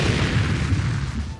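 Car explosion from a low-budget movie scene: a dense, sustained roaring blast with rumbling low end, loud and continuous for the whole moment, with no voices.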